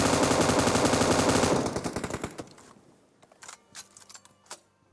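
Automatic gunfire from a 100-round gun in PUBG Mobile bursts in a rapid, dense stream for about a second and a half, then breaks into scattered single shots and clicks that fade to faint trailing pops.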